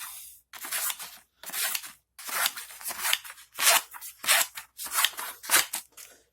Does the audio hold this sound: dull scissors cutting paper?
yes